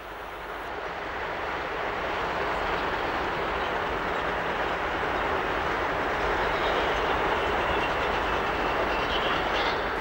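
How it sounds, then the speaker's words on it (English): A British Rail Class 56 diesel locomotive passes southbound beneath overhead electric wires on the West Coast Main Line, a loud, steady rumble and broadband roar that builds within the first second and holds strongly throughout. "we turn our attention to a Class 56 diesel under the wires,"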